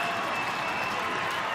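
A stadium crowd of almost 13,000 at Panthers Stadium applauds and cheers after a rugby league match-winning penalty kick, a steady, dense wash of clapping and crowd noise heard from a distance.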